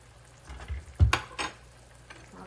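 Ghee goes into a hot pan of dhokar dalna, a Bengali lentil-cake curry, with a sharp burst of sizzle and a few quick metallic utensil clinks against the pan, loud and close.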